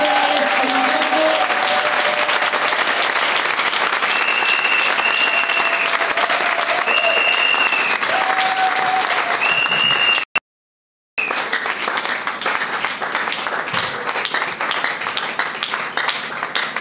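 A congregation at a church leaders' conference applauds to welcome a bishop, loud sustained clapping from a large crowd with voices and cheers mixed in, cut by a brief dropout partway through before the clapping resumes.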